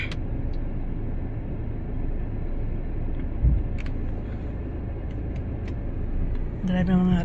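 Steady road traffic rumble from many cars, a continuous low drone as vehicles pass, heard from inside a moving car with faint interior noises.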